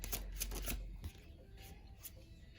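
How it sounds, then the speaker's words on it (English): Tarot cards riffle and shuffle in a quick burst of crisp flicks during the first second, followed by softer sliding and tapping of cards in a quiet room. "Feel free to skip the shuffling if you don't want to sit around for that."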